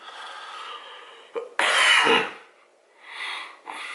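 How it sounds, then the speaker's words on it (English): A person coughs close to the mic in a few rough, harsh bursts separated by short pauses, with no talk. "I also gotta get this cough check."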